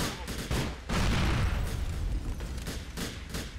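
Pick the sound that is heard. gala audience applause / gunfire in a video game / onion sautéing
gunfire in a video game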